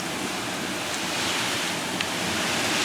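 Strong wind with driving rain in a storm, a loud steady roar of gusts and rain noise buffeting the microphone throughout, with no voices.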